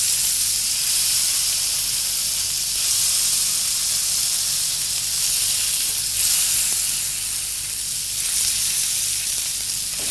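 Beef steak sears in a hot pan, a steady loud broadband sizzle and hiss running continuously, close and with no voices.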